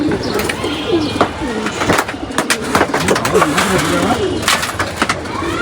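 Pigeons coo repeatedly at close range, soft throaty rolling calls overlapping one another amid scattered clicks and shuffling noises.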